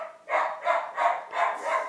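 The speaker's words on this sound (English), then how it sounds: "that's my dog" A dog barks five times in a steady rhythm, each bark fairly loud and close, with brief gaps between them and no talking over it.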